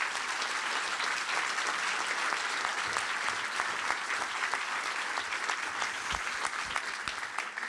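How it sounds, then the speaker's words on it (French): A large audience at the Cannes Film Festival 2021 claps in sustained, dense applause that stays steady throughout. "Et vos applaudissements étaient pas mal,"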